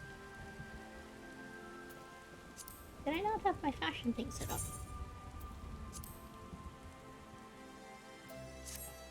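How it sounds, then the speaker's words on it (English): Steady soft rainfall patters throughout in Final Fantasy XIV, a constant light hiss under game music and a voice talking in the foreground. "Ah, it is raining."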